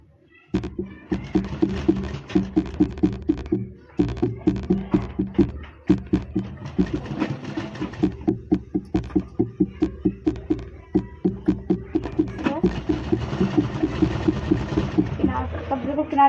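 A sewing machine stitches along the edges of a coloured suit fabric, running in a loud, steady mechanical rhythm with brief pauses between bursts.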